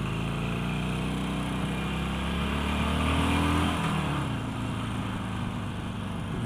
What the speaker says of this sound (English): hear the engine just pick up with the slightest wee touch of the wrist